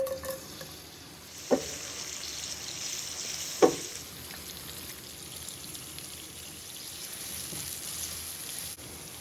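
Peas sizzle steadily in hot oil in a pan while cooking, with a soft continuous frying hiss broken by a couple of brief stirring clanks.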